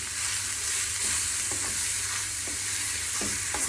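Kefta, minced meat, frying with onion in a small pan, giving a continuous bright sizzle with a few soft scraping stirs, close and steady throughout.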